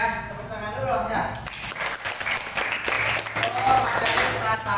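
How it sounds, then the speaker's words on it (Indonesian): Students in a classroom clap after a correct answer, with loud, fairly close clapping that builds after a spoken line and keeps going, mixed with voices and room noise. "Tepuk tangan dulu dong ya."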